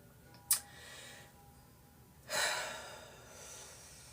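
A person draws one deep breath, a sharp audible inhale followed after a pause by a longer, softer exhale, close to the microphone in a quiet room.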